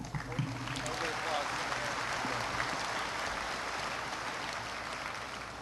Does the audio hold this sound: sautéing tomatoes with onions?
no